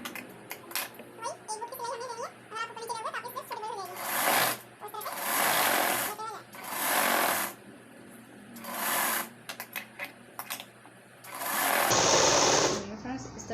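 A sewing machine stitches a border strip onto a blouse sleeve in repeated short loud runs, with someone talking between the bursts.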